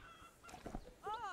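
Chicken calls in the game Horse Tales: Emerald Valley Ranch: a few short clucks and a honking cackle, the loudest at the end, over faint background sound.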